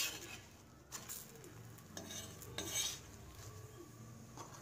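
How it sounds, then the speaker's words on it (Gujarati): A paratha cooking on a griddle and being turned over, with a soft background sizzle broken by several sharp metallic clinks and scrapes of a utensil against the pan, fairly quiet and close. "બીજી સાઈડ શેકા એટલે આપણે તેને ફેરવી લઈશું"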